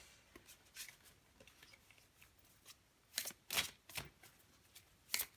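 Tarot cards are shuffled and drawn from the deck close by: soft papery flicks and a few louder riffling snaps near the end, quiet overall, with no talking.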